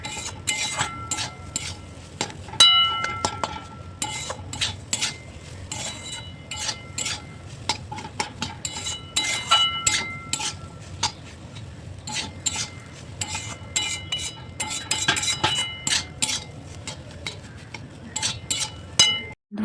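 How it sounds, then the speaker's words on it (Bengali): A spoon stirs and scrapes semolina upma in a pan with a splash of water. The metal clinks and scrapes repeat irregularly for about twenty seconds, close and without talk. "তাহলে অল্প একটু জল দিয়ে আবার ভালো করে নাড়বো"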